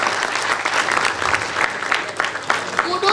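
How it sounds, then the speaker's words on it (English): Participants in an interschool sustainable development competition applaud themselves, a dense, steady round of clapping from a seated audience with a faint voice mixed in. "I would like all of the participants to clap for yourselves"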